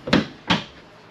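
A large pantry door in a 2025 Grand Design Solitude 310GK fifth wheel RV swings on its hinges, giving two quick soft thuds close by, one after the other, with no voices.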